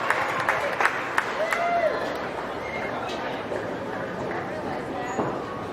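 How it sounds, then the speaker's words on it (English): An audience at a county fair swine show gives a steady round of applause with crowd chatter mixed in, clapping fairly near and sustained throughout while a voice speaks over it. "Give her a nice round of applause if you could"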